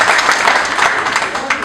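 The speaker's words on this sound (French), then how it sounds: "applaudissez." Sustained applause from the audience at a conference of Guinean artists and comedians, dense and steady clapping filling the whole moment at close range.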